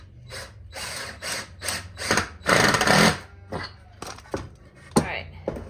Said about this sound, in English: I don't want to drill it in any deeper